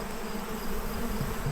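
Forager and robber bees working wet honey supers at a hive, a dense close buzzing drone that holds steady and loud the whole way through.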